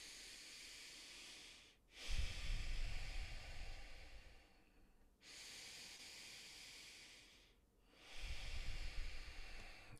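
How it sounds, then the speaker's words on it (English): Slow nasal breathing, two long drawn-out inhales and exhales through the nose, each a soft airy hiss lasting several seconds, heard close with no talking. "now if we watch a nasal inhale and exhale, the pace is greatly reduced without me having to do anything."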